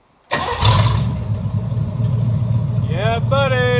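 A 1953 Chevy engine with new headers cranks and abruptly catches, roaring loud and close, then settles into a steady rumbling idle, with a brief whistling tone near the end.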